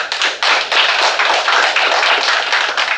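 A crowd applauds at an outdoor home-district days celebration in Mõisaküla, with dense continuous clapping that stays loud and steady throughout.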